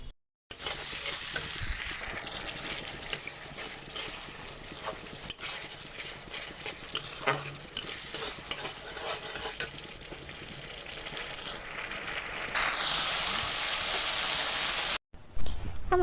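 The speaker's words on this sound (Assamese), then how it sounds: "মছলাখিনি যিহেতুকে ভাজা হৈ গ'ল, মই ইয়াতে অকণমান দি দিছোঁ মিট মছলা, আৰু সেইখিনিও মই সম্পূৰ্ণকৈ এতিয়া ভাজি লওঁ" Spices and meat masala fry in oil for a broiler chicken curry, a constant dense sizzle with soft scrapes and knocks from stirring throughout, a high whine running over it, and no talking.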